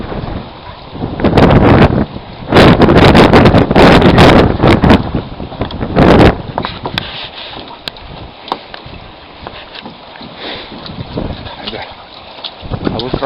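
Strong wind and choking gusts roar across the Nivshera river near a moored boat, with loud buffeting bursts early on that settle into steadier rushing wind and water noise.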